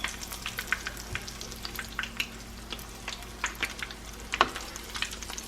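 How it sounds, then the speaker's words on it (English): Food fries in vegetable oil with a soft, steady sizzle and scattered crackling pops, fairly faint throughout with no talk. "I'm frying in vegetable oil"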